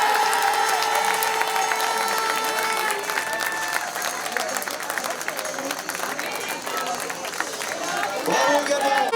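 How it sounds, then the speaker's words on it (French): Spectators applauding the French horse-ball team as bronze medallists at a Pro Elite event in Lamotte-Beuvron, a steady dense patter of clapping with an announcer speaking over it. "on va pouvoir applaudir ceux qui prendront la médaille de bronze, l'équipe de France"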